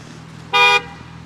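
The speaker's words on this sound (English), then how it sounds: "They got honked at for making a stupid left turn. And then they honked back." A single short car horn toot on a Toronto street, the Danforth, sounding briefly and fairly loud over a low steady traffic hum.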